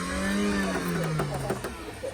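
A car engine revs up and eases back down at a used-car market, its tone sliding up then settling under close, steady running with faint background noise.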